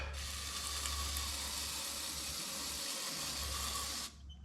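A steady, close hiss of water spraying to rinse off a 1972 Ford F350 Cummins truck while checking for a brake problem, running continuously before cutting off near the end, with no talk.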